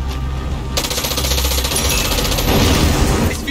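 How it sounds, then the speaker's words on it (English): An explosion in the video game Far Cry 6 sets off a dense, continuous roar and rumble. The loud rattling fills the whole stretch with no talk. "There's a explosion."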